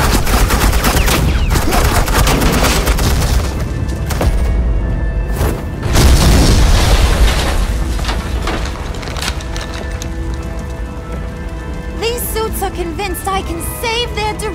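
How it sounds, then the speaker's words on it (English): Sustained suppressing gunfire in the Batman: The Enemy Within video game, dense overlapping shots and booms filling the whole stretch, loud and close, with a brief lull near the middle before the firing resumes. "This is Agent Quinn, suppressing fire"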